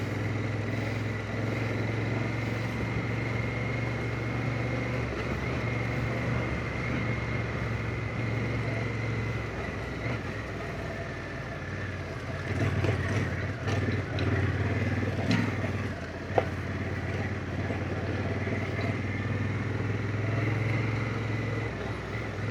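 A motorcycle engine drones steadily at mid pitch while riding off-road with traction control switched on, a continuous close rumble with slight surges and no talk.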